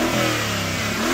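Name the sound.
older Mercedes-AMG G63 engine revving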